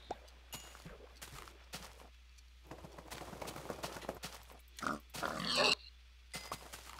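Pigs grunt and oink in the video game Geomine, with scattered short snorts over a low hum, growing into a louder burst of squealing grunts near the end, no talk.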